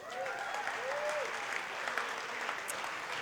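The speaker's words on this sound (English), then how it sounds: "How about a round of applause for all the awardees?" Audience applause at a First Nations art award presentation ceremony: a steady, dense wash of many hands clapping together throughout, fairly close and sustained with no voices standing out.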